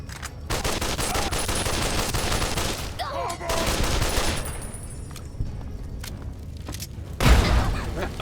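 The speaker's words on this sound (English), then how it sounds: "that's one of the super weapons from" Loud sustained gunfire from a super weapon in the video game Fallout New Vegas, a rapid fusillade of shots with booming bursts, brief lulls, and a heavy thump near the end.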